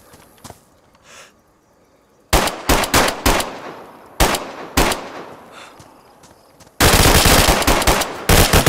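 Gunfire in a DayZ PvP firefight in Brena, with isolated single shots followed by sharp loud bursts of automatic fire and a sustained volley at the end, no talking.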